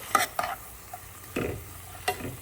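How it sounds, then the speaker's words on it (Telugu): Capsicum and paneer seasoned with salt frying in a pan, soft sizzling under about five distinct spatula stirs and scrapes, close and fairly loud. "మంచిగా ఫ్రై అవ్వనివ్వాలి"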